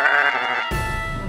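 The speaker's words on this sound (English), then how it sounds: "That's a sheep." A single sheep bleats loudly and close, a wavering nasal call lasting under a second that cuts off abruptly into a burst of broadband noise.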